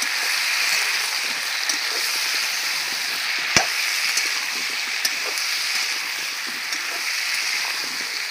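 Potatoes and pointed gourd with turmeric and salt fry in a pan, giving a steady broadband sizzle with a sharp utensil tap partway through and a few light clicks, close and even.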